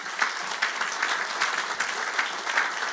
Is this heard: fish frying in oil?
no